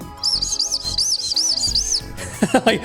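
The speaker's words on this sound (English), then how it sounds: "You can make whistling sounds as you blow through it." Whistle candy is blown to make a rapid, warbling high-pitched whistle in repeated bursts, close and loud, sounding like chirping.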